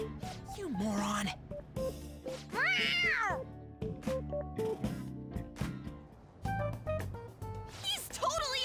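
A cat meows in the video game Persona 5 Royal, several short plaintive mews scattered among game music and character voices speaking over them.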